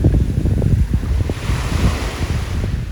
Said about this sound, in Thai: นี่ค่ะบรรยากาศทะเลนะคะ